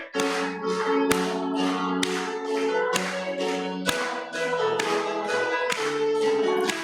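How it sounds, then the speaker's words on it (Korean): A church congregation at a Korean Sunday morning worship service claps in steady time with a sung worship song, the sharp claps landing roughly once a second over the music. "박수 좀 크게 힘있게"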